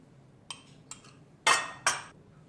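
Eggs cracked one by one into a bowl give four short, crisp taps and clinks, the last two louder and sharper, in a quiet kitchen.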